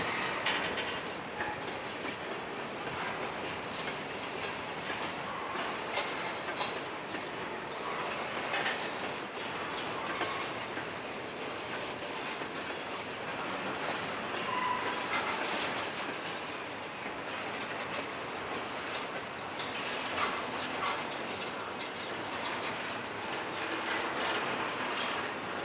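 A Wisconsin Central freight train of boxcars passes steadily, with wheels clicking and rumbling over the rails for the whole stretch, moderately close and without talk.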